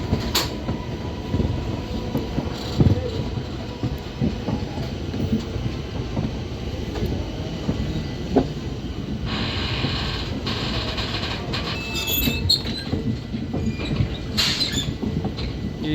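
A passenger train leaving Dehradun for Amritsar rolls along the rails with a continuous loud rumble and rattling clatter, steady throughout, and no talking.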